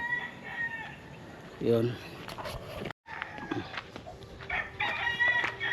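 Chickens cluck and a rooster crows nearby, mixed with a person speaking briefly and background chatter.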